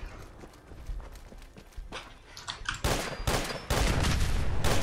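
Suppressed gunfire in the video game Fallout 4, with soft muffled shots at first, then louder, denser bursts of rapid fire near the end.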